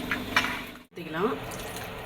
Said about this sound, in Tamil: தண்ணி ஊற்றிக்கலாம் தேவையான அளவு.